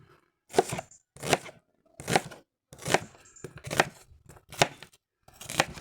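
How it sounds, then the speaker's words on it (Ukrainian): Onion cut into half rings on a board, heard as about eight crisp, evenly spaced knife chops close by, each a sharp thud with a short pause between, no voices. "Нарізаємо так, сміливо півкільцями."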